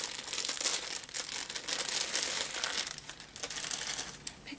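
Close, continuous crinkling and crackling of plastic packaging from an Etsy shop order being handled and opened, with no voices.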